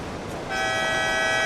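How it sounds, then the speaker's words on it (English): Buzzer ending a surfing heat at the Rip Curl Pro at Bells Beach, a single loud, steady electronic tone cutting in after faint background noise and sustaining to the end. "Down to the buzzer there, and Samuel Pupo with another score to drop"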